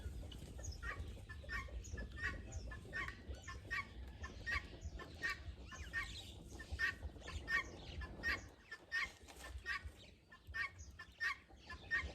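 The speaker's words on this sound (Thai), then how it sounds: "เสียงกาเสียงไก่ก็เริ่มออกจากคอนเลย" Chickens cluck continuously nearby on a cold early morning, with busy overlapping calls and occasional rooster crows from a farmyard flock leaving the roost.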